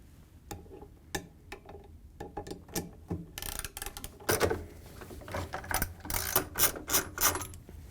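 Ratcheting clicks from a hand tool taking the nuts off the counterweight of a GE washer, a run of sharp metallic ticks that starts sparse and quickens into dense bursts, close by and alone.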